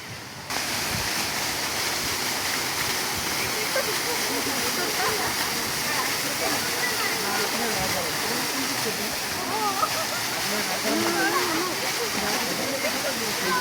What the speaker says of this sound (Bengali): এই ঝর্ণা